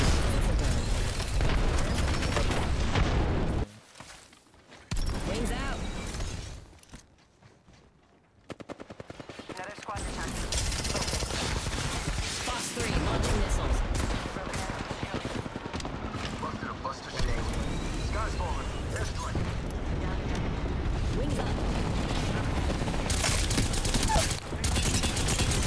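Automatic weapons fire in Apex Legends crackles in rapid, loud bursts, with a short lull partway through before the shooting resumes, and players talk over it.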